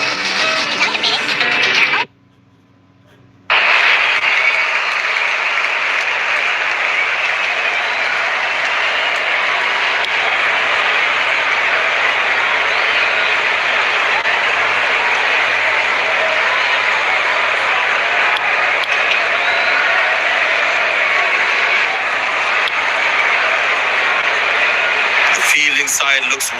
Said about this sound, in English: Openers walking in and the crowd cheering in anticipation.